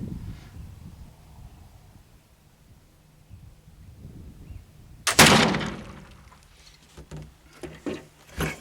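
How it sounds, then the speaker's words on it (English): A single sharp report from a gun loaded with homemade black powder cracks out loud and close after a quiet stretch of faint outdoor rustle, followed by lingering rumble and scattered bumps. "we'll take the first shot"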